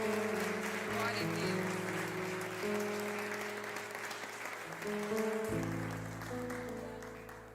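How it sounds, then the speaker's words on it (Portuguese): Church congregation applauding during a Portuguese-language sermon, a sustained wash of clapping hands under which sustained organ or keyboard chords play throughout. "Você pode aplaudir ao Senhor por isso?"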